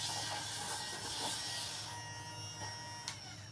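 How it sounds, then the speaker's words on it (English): A small battery-powered desk vacuum used for cleanup during a wood kit project whirs steadily and close by, a continuous motor hum with a faint rub or click near the end. "I got my battery in there. My little"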